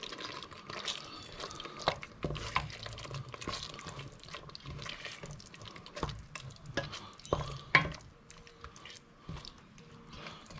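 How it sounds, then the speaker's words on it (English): Chopped coriander leaves are stirred through a pan of lamb korma, making soft, wet, squelching stirs with occasional light scrapes and taps, close and fairly quiet. "I've just got a handful of chopped coriander leaves, and I'm just going to stir those through."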